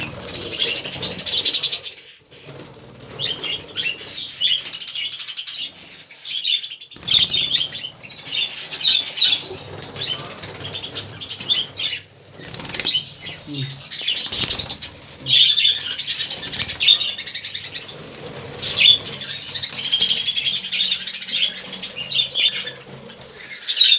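Frightened lovebirds being caught and moved into a new cage, with close, loud bursts of flapping wings and shrill squawks that come in waves, broken by short scuffling gaps.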